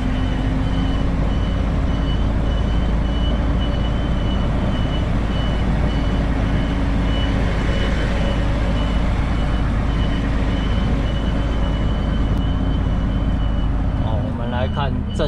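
A Volvo FM 500 truck backs up with a steady, evenly spaced reversing beeper over a loud, constant diesel engine drone, close by throughout, with talk over it.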